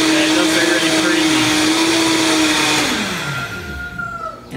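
A Vitamix blender runs on high with a loud, steady motor whine that holds, then winds down as the pitch drops and the motor slows to a stop near the end.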